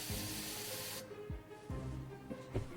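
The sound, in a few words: air hissing from Paasche AB Turbo airbrush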